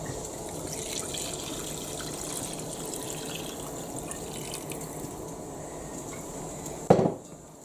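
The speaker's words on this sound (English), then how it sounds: "I need to add 4 cups of water." Water poured into a pan of enchilada sauce with cooked spices, a steady broad liquid rush running throughout at moderate level, ending with a brief louder splash or clatter near the end.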